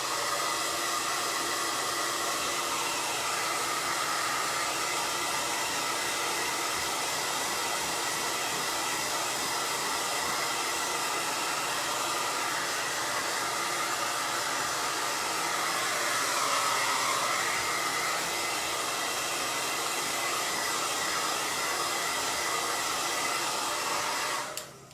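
A hair dryer blows steadily and loudly to dry paint, its even whir running unbroken for the whole stretch before cutting off at the very end.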